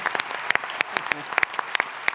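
Applause for comedian Germán Gualey on the Foques Radio Show, heard as sparse, sharp individual claps standing out over a steady hum of studio noise.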